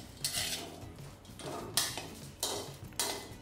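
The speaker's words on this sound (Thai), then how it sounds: "คั่วจนทุกอย่างสุกดีนะครับ" Dried chillies, whole tomatoes and kaffir lime leaves dry-roasting in a pan, with several bright scraping and clattering bursts as a utensil stirs and knocks against the metal, separated by quieter gaps.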